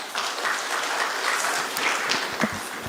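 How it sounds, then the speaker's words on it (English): An awards ceremony audience at a real estate excellence awards event in 2024 gives sustained, dense applause with steady clapping throughout, loud and close. "Can we please clap louder?"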